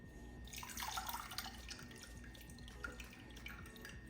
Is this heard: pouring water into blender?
yes